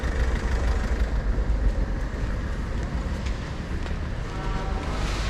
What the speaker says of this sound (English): our train now taking us back down to Bristol Templemead